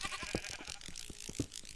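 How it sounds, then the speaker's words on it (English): Goat bleating in a modded Minecraft cave world, a few short nasal bleats over a busy background of game sounds, with light talk nearby. "A goat."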